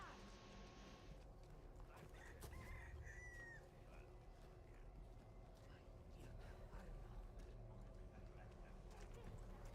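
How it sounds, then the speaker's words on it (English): Chickens cluck and a rooster crows faintly at a distance, set against steady low background noise with occasional bird-like squawks. "Calm down, chicken."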